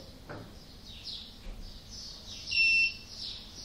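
An electronic device starts beeping after power from a 3 kW single-phase 50 Hz alternator on a water turbine is cut, giving thin, high, repeated tones over a steady low hum, loudest near the end.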